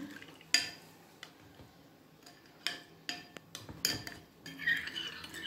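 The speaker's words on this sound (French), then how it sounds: "je vais mélanger jusqu'à ce que ça soit bien homogène" A utensil stirs a dough mixture of flour for sweet African beignets in a bowl, giving faint, irregular clinks and scrapes against the bowl with quiet pauses between strokes.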